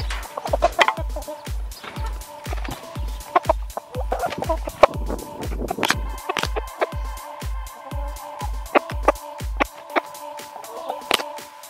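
Chickens cluck and squawk nearby, overlapping busily, while a steady low rhythmic thumping runs underneath for most of the time.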